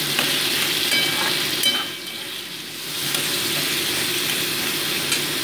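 Small prawns fry in hot oil with a loud, continuous sizzle and crackle, briefly dipping as they are stirred, with no talking.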